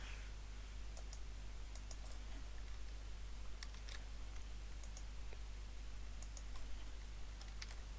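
Slow typing on a computer keyboard, sparse irregular soft key clicks spread across the stretch over a low constant hum, quiet and close with no talking.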